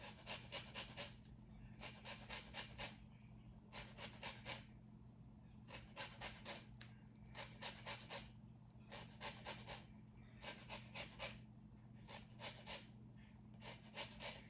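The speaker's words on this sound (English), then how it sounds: "I'm gonna take them and put the zest from both lemons in and the juice as well." Two lemons are zested on a grater in a kitchen, giving close, quiet bursts of rasping strokes in regular groups with short pauses between them, repeating throughout.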